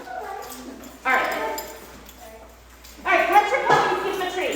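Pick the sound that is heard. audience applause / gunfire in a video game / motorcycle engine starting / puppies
puppies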